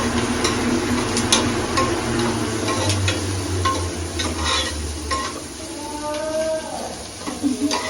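Onions for biryani frying in oil in a pan, a steady close sizzle broken by repeated scraping and clinking strokes of a spoon stirring them.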